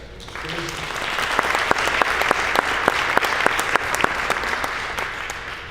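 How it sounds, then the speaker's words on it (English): A crowd claps steadily, a dense patter of many hands with a few sharper individual claps standing out, sustained without a break. "if we give Glenn Googans a round of applause"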